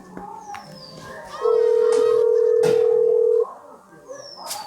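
A loud, steady telephone tone holds for about two seconds, then cuts off, with quiet background noise before and after.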